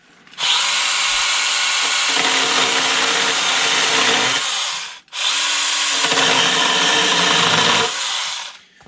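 A Stihl GTA 26 pruning saw cuts through dry pine wood while carving a small bear, with two loud, sustained whining cuts separated by a brief pause.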